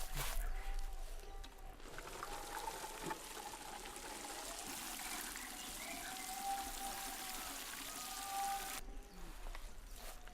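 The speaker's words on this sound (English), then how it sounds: "And after there, you can now water it, as I'm doing." Water pours and trickles steadily onto a newly planted tree seedling on ground mulched with dry grass in Mbale, Uganda, a close, continuous stream lasting most of the stretch before stopping near the end.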